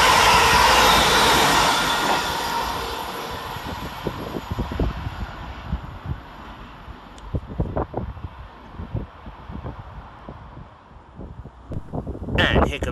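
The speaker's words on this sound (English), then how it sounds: "And here comes our train in the form of" Scotrail electric train, unit 385-019 on the Dunblane to Glasgow Queen Street service, drawing into Bishopbriggs railway station: a loud rumble that eases into a steady, quieter rolling of wheels and clicks, with a brief hiss near the end.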